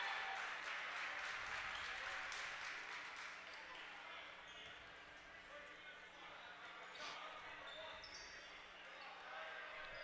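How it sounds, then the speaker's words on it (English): Basketball crowd cheering for the Riverview team at a 2019 Coal Bowl Classic game, a steady broad roar of fans filling the whole stretch at moderate level, with ball bounces and scattered shouts mixed in. "the Riverview faithful making their presence known, cheering on their squad"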